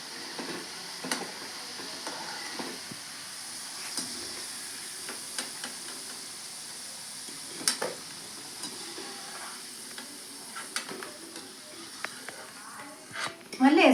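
French fries sizzle and hiss in hot oil in a home kitchen, a soft steady frying bed with occasional stirring clinks and a voice speaking quietly over it.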